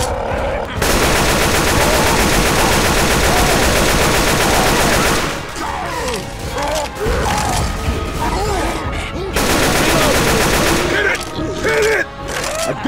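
Rapid gunfire aimed at a boss zombie in Left 4 Dead 2, dense and loud bursts of automatic fire that stop briefly around six and eleven seconds before resuming, with shouting voices mixed underneath.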